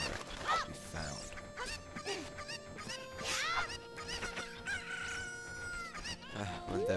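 Chickens from the video game The Legend of Zelda: Ocarina of Time, crowing and clucking loudly and repeatedly over a busy game soundtrack, with several overlapping calls throughout.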